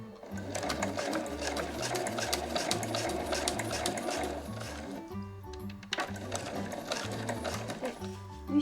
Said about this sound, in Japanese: 15ミリのところを縫います。